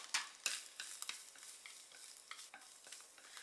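Quiet stirring and scraping of pickled mustard stem over medium heat in a hot pan with ginger, a soft sizzle, irregular clicks of a utensil against the metal, no voices.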